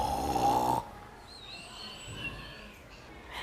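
A voice imitates loud snoring, a rough rumbling snore at the start that gives way to faint squeaky vocal noises, as in a preschool story about animals kept awake by the noise.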